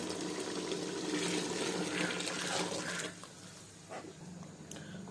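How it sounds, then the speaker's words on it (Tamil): Boiled water poured into a pot of vegetable biryani in a home kitchen, a loud continuous splashing gush that cuts off partway, then softer sizzling and bubbling. "இப்போ வந்து கொதிக்க வச்ச தண்ணியை சேர்த்துக்கலாம்."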